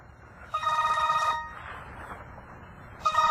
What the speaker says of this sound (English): Your other cell phone's ringing.